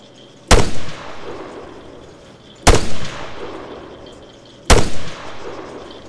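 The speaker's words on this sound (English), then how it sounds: "Enemy fire! Taking fire, taking fire." Three loud, separate gunshots in a military video game set on Altis, each a sharp crack with a rolling echo tail, spaced about two seconds apart.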